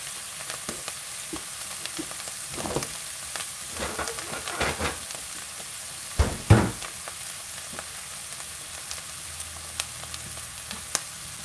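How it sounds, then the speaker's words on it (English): Bacon and black trumpet mushrooms fry in a pan, giving a steady close sizzle with crackling pops and a few louder scrapes and stirs partway through, and no voice over it. "The bacon is starting to render."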